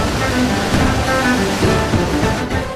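A loud, continuous rush of ocean water churns from a ship's bow wave, a steady roaring wash without breaks or voices.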